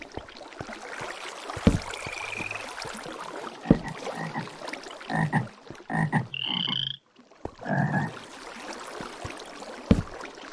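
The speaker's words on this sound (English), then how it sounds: "Oh, it's a frog." A frog in a modded Minecraft video game croaks several times, with short repeated croaks over a gurgling background and brief game sound effects, and no talking.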